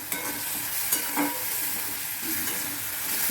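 Raisins and cashews fry in a pan for chhana kofta, giving a constant close sizzle with a few soft stirring clicks and scrapes over it.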